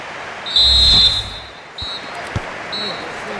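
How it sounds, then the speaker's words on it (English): A referee's whistle in a FIFA football video game blows for half time: one long, shrill blast, then two shorter, fainter peeps over low crowd murmur, with a dull thud in between. "So the whistle then, we're at the halfway stage in this match"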